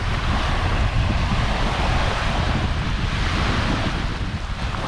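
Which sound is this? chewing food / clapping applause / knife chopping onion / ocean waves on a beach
ocean waves on a beach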